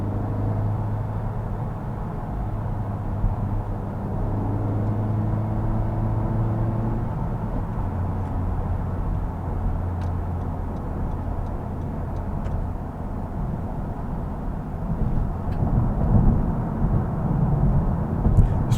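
A Honda Civic Type R driving along gives a steady engine drone under road rumble, with pitch shifting as the engine rev-matches through gear changes and a rise in level near the end.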